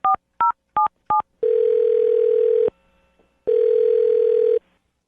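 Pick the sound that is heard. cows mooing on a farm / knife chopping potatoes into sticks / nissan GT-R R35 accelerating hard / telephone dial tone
telephone dial tone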